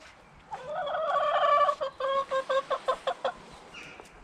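A chicken clucks nearby, a drawn-out warbling call followed by a quick series of short rhythmic clucks, alone without talk.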